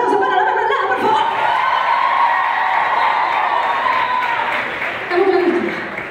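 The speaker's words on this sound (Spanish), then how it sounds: "así que un aplauso para la Perme, por favor." Audience applause and cheering at a young singer's first live recital, a dense wash of clapping with some whoops and laughter, loud and continuous before fading slightly near the end.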